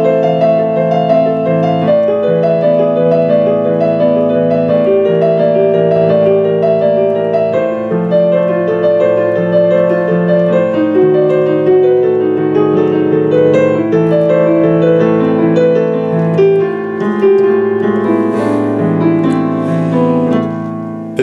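Solo piano plays the intro of a song, with steady, full chords and a flowing melody throughout, loud and close with no talking.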